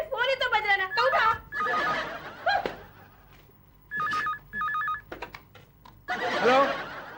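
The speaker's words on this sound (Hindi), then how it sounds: "ये फोन बज रहा है, उठा क्यों नहीं रही तू?" A telephone rings in two short bursts of trilling electronic tones amid lively, overlapping voices in a domestic setting.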